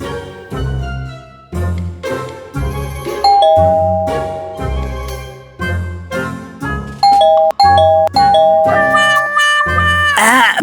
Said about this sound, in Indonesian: Ya udah Pak, buruan pencet belnya.